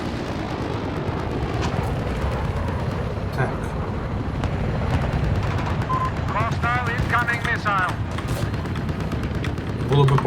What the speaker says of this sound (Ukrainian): ну тепер хоч я постріляю з рейлгана